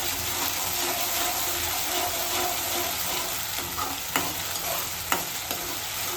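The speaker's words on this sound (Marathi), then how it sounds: "आपण दोन चमचे ही जी अद्रक लसूणची पेस्ट आहे ती टाकून घेणार आहे आणि थोडंसं आपण परतून घेऊ त्याला सुद्धा" Onion sautéing with ginger-garlic paste in a pan for a homemade mutton dish, a loud continuous sizzle with a few sharp scraping clicks of a spoon near the end, no talk.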